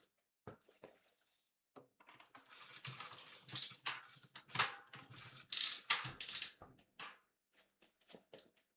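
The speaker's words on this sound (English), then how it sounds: "the connection will be established once the cranks are rotated at least once" Bicycle cranks turned by hand, a close, irregular sequence of mechanical clicking and whirring, with bursts of ratchet-like ticking that rise and fade over several seconds.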